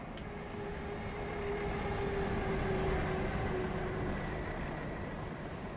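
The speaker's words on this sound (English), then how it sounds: "Sound the horn." A diesel railcar horn in the Diesel Railcar Simulator video game sounds as one steady, sustained tone over the low rumble of the moving train, fairly quiet overall.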